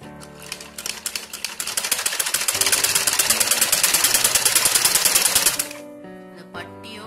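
A sewing machine stitches the waistband of a circular palazzo skirt in a fast, even mechanical rattle that builds and runs for several seconds before stopping, close by.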